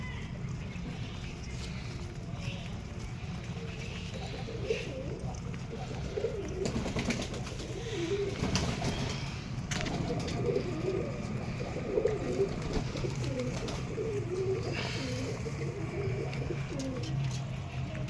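Domestic pigeons coo softly and repeatedly at close range at home while a female bird approaches, the low throaty calls recurring throughout over a steady background hum.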